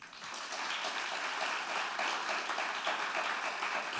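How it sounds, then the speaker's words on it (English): At a graduation ceremony, an audience applauds graduating students with steady, continuous clapping at moderate volume. "give them a nice round of applause"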